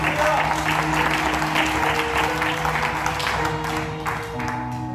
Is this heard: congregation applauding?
yes